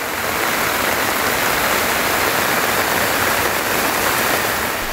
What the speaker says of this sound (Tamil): பெய்த கனமழையால் தண்ணீர் சாலைகளில் ஓடியது